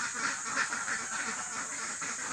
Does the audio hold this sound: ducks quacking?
yes